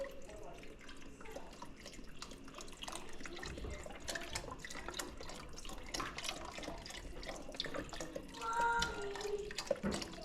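Beef broth pours from a 32-ounce carton into a pot, making a faint, continuous liquid splashing and gurgling that grows a little louder near the end.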